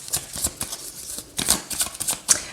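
Tarot cards are shuffled by hand for a reading, making close, crisp riffling bursts in an uneven rhythm with short pauses between them and no voice.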